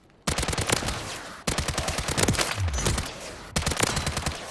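In Call of Duty MW3 Zombies, a machine gun fires three long, loud automatic bursts separated by brief pauses, with close rattling shots filling each stretch.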